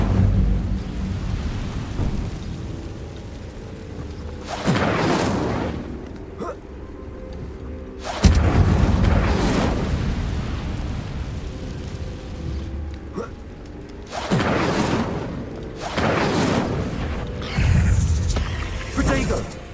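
Incendio fire spells flare up in Hogwarts Legacy as several loud, roaring whooshes spread over the stretch, mixed with crackling rumble while voices call out during the duel.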